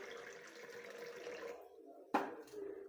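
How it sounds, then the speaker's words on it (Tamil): Water pours steadily into a pressure cooker holding rice and sago for about a second and a half, then stops. A single metallic clank follows, and softer splashing resumes after it. "ஒரு டம்ளருக்கு ஏழு டம்ளருங்கிற கணக்கில் நம்ம வந்து தண்ணி ஊற்றிக்கலாம்"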